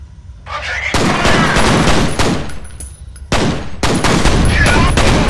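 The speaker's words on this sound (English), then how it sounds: "I'm taking" Gunfire in the FEAR video game: loud, dense bursts of automatic weapon fire crackle in close succession, broken by brief lulls, with no talk over them.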